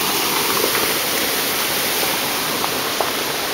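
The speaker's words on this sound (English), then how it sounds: "That's pretty dandy creek right there." A creek flowing through a forest, a close, steady broadband rush of water with a few faint splashes, no voices.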